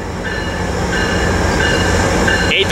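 A train rolls steadily through a railway station at Ontario and Riverside, a loud, continuous rumble with high wheel squeal tones and a brief sharper screech near the end.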